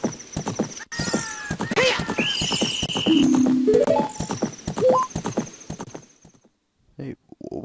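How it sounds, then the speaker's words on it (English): A horse gallops in Zelda: Ocarina of Time at Gerudo's Fortress, with steady clip-clop hoofbeats and a neigh over game music and effects, loud and close, while someone talks over most of it before a brief silence near the end. "I was riding on a horse"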